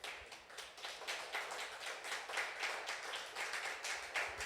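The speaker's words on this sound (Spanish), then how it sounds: "Vamos a darle un aplauso al Señor por su palabra." A church congregation claps after a sermon on the miracles of Jesus, a fairly quiet, loose patter of hands with uneven rhythmic bursts throughout, no voices over it.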